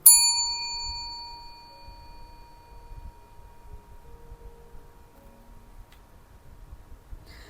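A bright notification bell dings once at the start, sharp and ringing, then its tone slowly decays over a couple of seconds into near silence with faint low rustle underneath.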